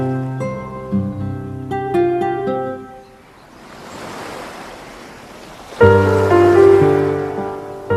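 Surf washing onto the shore swells up in the middle as a broad hiss between stretches of tonal music, moderately loud and without speech.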